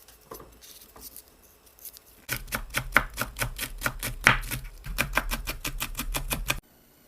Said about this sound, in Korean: 대파는 흰 부분으로 잘게 썰어주세요